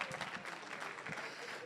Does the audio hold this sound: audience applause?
yes